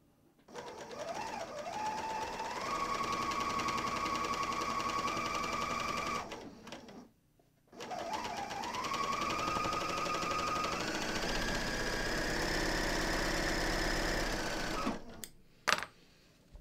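Bernina L 460 serger stitching a seam through fabric at 3/4-inch cutting width, a steady loud motor whir in two long runs with a brief stop between, then a few clicks at the end.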